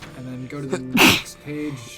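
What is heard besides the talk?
a sneeze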